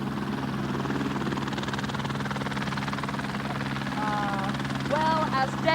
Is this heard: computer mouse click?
no